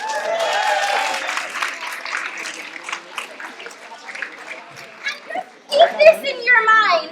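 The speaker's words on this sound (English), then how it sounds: "Can we give them a round of applause?" Crowd applause and cheering with children's voices fill the room, fading then swelling again near the end.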